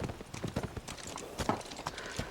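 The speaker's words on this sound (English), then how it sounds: "Beautiful horse, look." Horse hooves clip-clop in a quick, steady run of sharp knocks on the ground, close and clear with no talk over them, from a horseback scene in the TV drama House of the Dragon.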